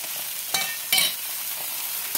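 Homegrown leafy greens sizzle in a hot pan with chili, salt and turmeric as they are stirred, with a steady frying hiss broken by two brief scraping bursts from the spoon.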